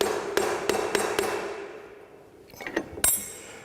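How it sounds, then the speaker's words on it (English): Soft hammer tapping a metal workpiece down flat in a machine vise while the vise is tightened, a handful of sharp separate knocks, then a quieter pause and a final firm strike. "I'll use my soft hammer to hit down on my workpiece to ensure it sits nice and flat."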